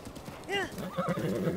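A horse in the video game The Legend of Zelda: Breath of the Wild lets out a clear whinny midway, then a run of clip-clopping hooves follows over a low rumbling background.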